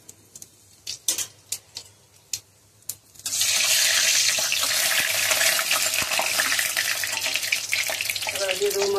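Cumin seeds and bay leaves hitting hot oil, a loud continuous sizzle that bursts in close-up after a few sharp clicks and taps, then holds steady to the end.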